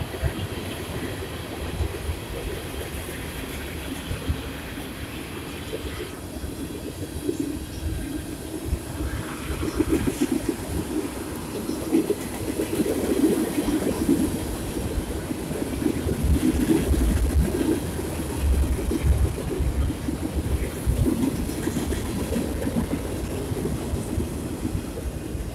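A long CSX freight train rolls steadily past close by, its wheels and railcars producing a continuous rumbling roar with rhythmic clatter that swells toward the middle and holds loud to the end, with no talking.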